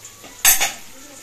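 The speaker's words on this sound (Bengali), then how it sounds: "ঢাকনাটা খুলেই দিই।" A lid is lifted off a pot of nearly boiling rice, one short, bright metallic clatter in a quiet kitchen, close and sharp, then fading quickly.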